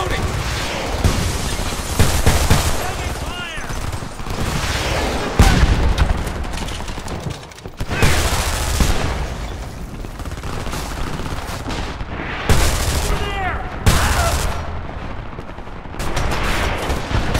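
Heavy gunfire in the video game Homefront rattles in repeated loud bursts of automatic fire mixed with impacts and shouted voices, continuing almost without break throughout.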